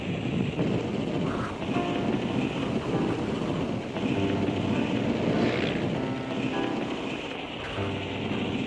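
A 1920s aircraft in flight, its engine and airflow making a steady loud drone that fills the cabin throughout without pause.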